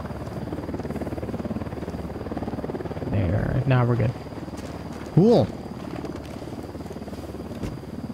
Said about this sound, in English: There are choppers.